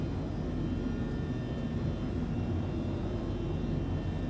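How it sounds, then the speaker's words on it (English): The engine of a Reliant Kore spaceship in the Star Citizen video game runs at idle, producing a steady, even, droning hum with no variation and no talk. "Spool quantum drive. Engine is on."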